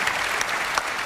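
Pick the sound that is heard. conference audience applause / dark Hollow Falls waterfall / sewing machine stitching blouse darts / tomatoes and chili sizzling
conference audience applause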